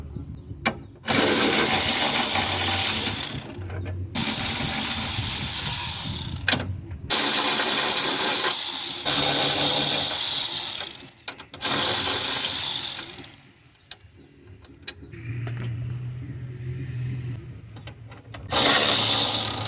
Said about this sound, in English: I'm gonna be removing the 13 millimeter bolts first, and then the 10 millimeter bolts.